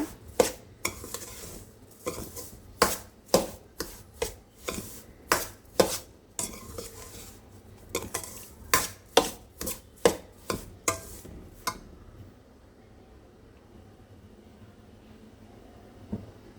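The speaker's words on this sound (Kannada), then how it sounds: "ತುಂಬ ಹೊತ್ತು ಕೈ ಬಿಡಬೇಡಿ, ಹಾಗೆ ಹುರ್ಕೊಳ್ಳಿ" A spoon scrapes and knocks rhythmically against a pan as rava is stirred and roasted for laddoos, a quick series of close sharp strokes that stops abruptly, leaving near silence.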